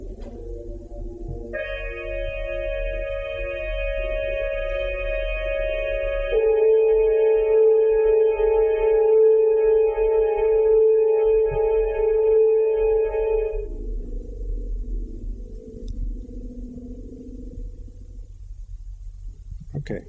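A MIDI reduction of a passage from Xenakis's orchestral work Metastaseis, built on a seven-note subset of Messiaen's fourth mode: sustained layered synthetic tones holding steady chords that shift about two-thirds through, then thin to a softer lower cluster.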